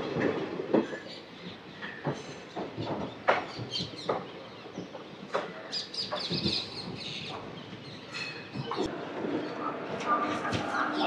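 A train at Guntur railway station: a steady rolling rumble with scattered clanks and rattles of railway cars, and a few faint bird-like calls in the background.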